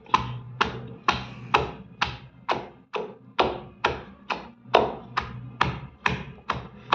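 Steady rhythmic pounding of onion in a mortar for tomato chutney, about fourteen sharp thuds at an even pace, close and fairly loud with no talking.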